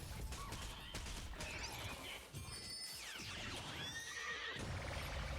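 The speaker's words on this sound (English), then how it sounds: "They sound like horses." Horses neighing and whinnying in the video game Honkai: Star Rail, several loud overlapping calls over hoof clatter and busy game effects, with no talk.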